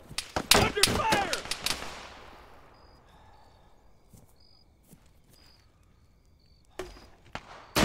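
A rapid burst of close, sharp ArmA 3 gunshots rings out, the reports echoing off into a quiet outdoor scene with insects chirping, then a few more distant shots return near the end.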